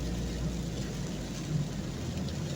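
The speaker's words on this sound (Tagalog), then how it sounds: "Ang lakas ng ulan." Heavy rain pours steadily on an afternoon drive, a dense, even hiss layered over the low drone of a vehicle interior, with no pauses throughout.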